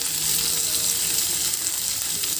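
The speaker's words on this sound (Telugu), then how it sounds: "ఒక రెండు మూడు నిమిషాలు ఫ్రై చేద్దాం" Curry leaves, sliced onion and turmeric sizzle steadily in oil in a pan, a dense close frying hiss with faint stirring, no talk.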